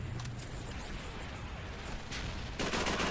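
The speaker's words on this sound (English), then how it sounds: "I'm trying not to get shot by the MG42." Gunfire rattles in the Call of Duty 3 video game, dense overlapping rifle and machine-gun shots in a continuous battle din that swells louder near the end, with no talk.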